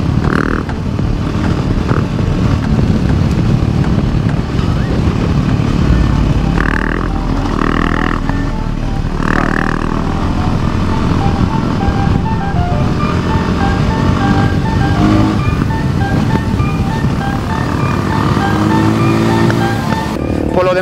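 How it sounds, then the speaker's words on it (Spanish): A Voge 300 Rally motorcycle rides over bumpy ground, its engine droning loud and steady throughout with rattling and thumping from the suspension, and no talking. "Mira cómo se come la suspensión de la moto de Javi los baches."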